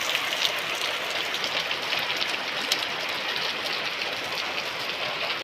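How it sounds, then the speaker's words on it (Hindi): Heavy rain pours down steadily in a dense, constant hiss with scattered sharper drop hits, close and loud throughout, no voices. "घर पहुँचने तक लग चुकी है इतनी ज़्यादा बारिश"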